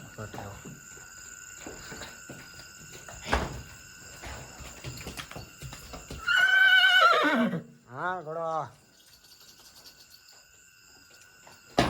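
A horse gives a loud, close whinny followed by a shorter second neigh, over a background of insects and faint rustling.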